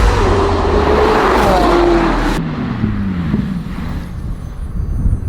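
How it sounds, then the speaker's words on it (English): A McLaren 720S accelerates on a racetrack, with a loud, steady engine roar whose pitch climbs through the gears and then drops, recorded from inside or near the car. "The McLaren is driving amazing"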